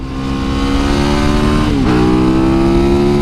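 A SuperMoto motorcycle accelerates hard past slow cars on the road, its engine loud and close, revving up with a brief dip as it shifts gear.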